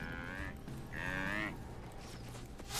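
Cows moo in the video game Guild Wars Nightfall, two long, lowing calls over a steady game backdrop.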